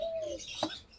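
A dove gives a short call near silver pheasants on a bird farm, one brief close note followed by a quick soft burst.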